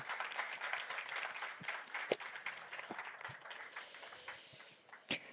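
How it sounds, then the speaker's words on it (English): Applause from a conference audience at an aerospace and aviation infrastructure panel as the speakers walk on stage, a moderate, fairly distant patter of clapping with a few sharp knocks and thumps, tapering off. "a round of applause will follow you"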